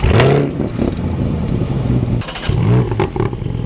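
A Corvette C8 Convertible sports car's exhaust barks and growls loudly up close, with repeated revs rising and falling in pitch.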